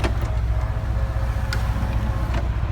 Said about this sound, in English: And top goes down.